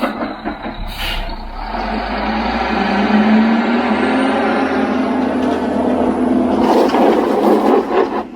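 A heavy concrete mixer truck engine rumbles steadily as it approaches in all-wheel drive, with a rising whine and a hiss of air brakes near the end.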